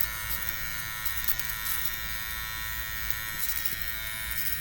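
An electric shaver trims nose hair with a loud, close, steady buzz whose pitch wavers slightly as it presses against the face, running continuously with no speech.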